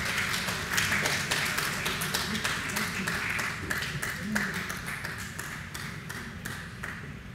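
Applause from a lecture audience at a talk on the Harappan civilization, a dense steady run of claps that continues through the whole stretch with a slight fade toward the end.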